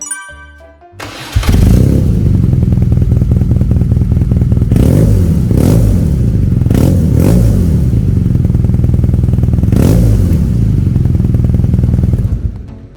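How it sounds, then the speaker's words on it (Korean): A 2020 BMW R nineT Pure motorcycle fitted with an Akrapovic exhaust starts up after a brief click, then settles into a loud, close, throbbing idle punctuated by several sharp revs before shutting off. "이제 시동 영상, 아크라포빅 영상 한번 보겠습니다."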